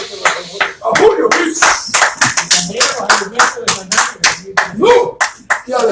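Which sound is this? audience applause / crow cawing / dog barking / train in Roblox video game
audience applause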